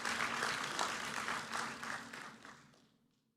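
Audience applause fills a hall at an NSSF annual members' meeting, a dense burst of many hands clapping that holds steady before fading out, with no talking.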